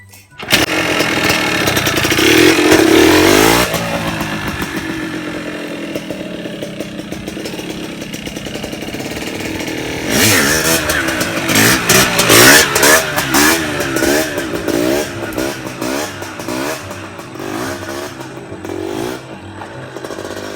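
A motorcycle engine revs hard and loud during a slow wheelie, the pitch rising and falling as the throttle opens and eases, the roar close and sustained throughout.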